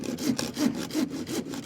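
A handsaw trims the end off a wooden roof board while building a garden room, making close, loud rhythmic strokes about every third of a second with a rasping back-and-forth grind and no voices.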